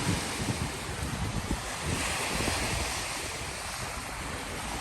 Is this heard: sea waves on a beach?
yes